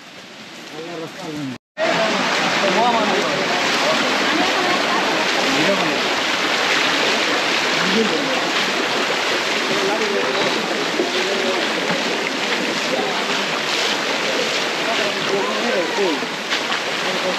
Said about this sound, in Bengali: এখানে যেহেতু ঝর্ণার পানি এই দিক দিয়ে নামছে অনেক স্রোতে